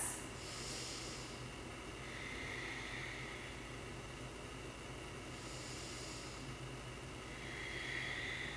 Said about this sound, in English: We'll stay here for 2 more big breaths.